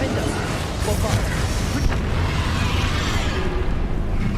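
A Bombarda spell explodes in Hogwarts Legacy with a heavy, rumbling blast amid ongoing combat noise and low booms, and a voice is heard around it.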